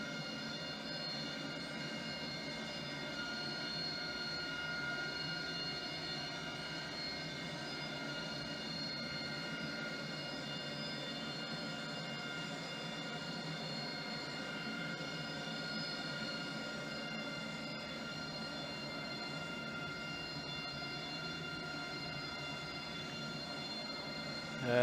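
Light aircraft fly at a flying club's short runway, giving a steady, unbroken engine drone with a constant tone. It stays at an even moderate level for the whole stretch and no one speaks.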